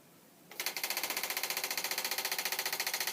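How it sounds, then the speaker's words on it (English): A small ArtBot toy's vibration motor starts up after brief quiet and runs with a steady, fast rattling buzz, loud and close, pulsing rhythmically as the little robot shakes. "you'll see that our ArtBot is starting to work and is starting to shake exactly like it should"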